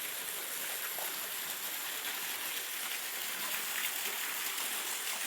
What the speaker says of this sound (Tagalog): Ang lakas pa rin ng tubig.